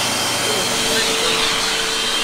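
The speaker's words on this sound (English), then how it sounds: "get started with the pre-vacuum" Vacuum cleaner pre-vacuuming a filthy, greasy warehouse tile floor, a loud, steady, close roar with a constant whine and no pauses.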